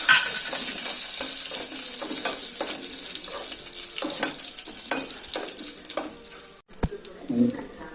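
Garlic, curry leaves and dried red chillies fry in hot oil for a coconut chutney, giving a steady loud sizzle with repeated crackles and pops, and a brief scrape near the end.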